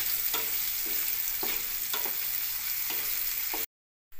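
Chopped onion frying in an oil-filled pan while making dhaba-style dum aloo, a continuous close sizzle with regular scraping stirs roughly every half second, ending in a brief silence.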